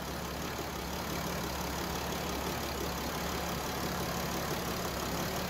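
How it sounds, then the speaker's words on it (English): A 3-liter diesel engine idles with the hood open, giving a steady, even rumble and broadband hiss at close range. It runs alone with no talk. "here we can see under the hood that 3-liter diesel"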